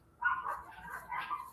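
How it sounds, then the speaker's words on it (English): Small yippy dogs barking inside an apartment, a short burst of high-pitched yaps and yips at moderate distance, muffled as if through a wall. "And there go the yippy dogs."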